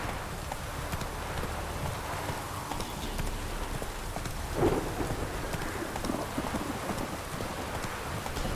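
A horse galloping in The Witcher 3, a steady rush of hoofbeats blended with rain-like ambient noise, with one brief louder burst midway.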